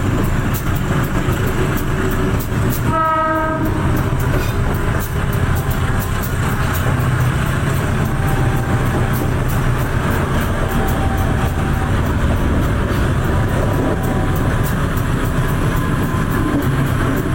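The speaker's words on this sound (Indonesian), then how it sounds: "perjalanan kereta api Gajayana Tambahan telah tiba dan berhenti di stasiun Tulungagung" The Gajayana Tambahan passenger train, an executive train hauled by a red-and-blue locomotive, arrives at Tulungagung station with a loud, continuous rumble and rolling noise and a brief horn-like tone early on, close by and without talk.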